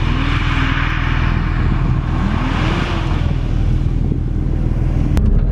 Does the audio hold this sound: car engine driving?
yes